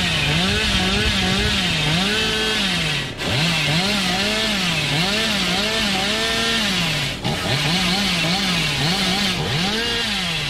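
Chainsaw in the horror game Dead by Daylight, a loud continuous revving drone with repeated rising and falling pitch swells, briefly cutting out twice.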